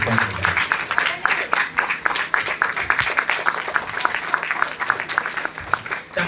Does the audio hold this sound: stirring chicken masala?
no